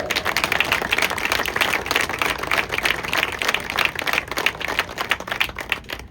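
A crowd at the Monadnock Speedway Hall of Fame ceremony applauds inductee Carl Merrill, a thick, even wash of clapping that holds steady throughout with no talking over it.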